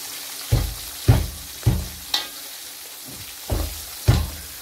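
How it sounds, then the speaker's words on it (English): Onions and chilies fry in a pan, with sharp sizzling bursts flaring about every half second and fading quickly, close and fairly quiet, with no talking. "Gets fried up within 5 seconds, as much I am seeing over here."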